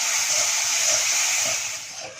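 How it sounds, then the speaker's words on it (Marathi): Jaggery melting and cooking in a pan over a low flame, a steady bubbling hiss that fades slightly toward the end, heard alone without talking. "गूळ वितळला आणि 1 मिनिट शिजला आहे"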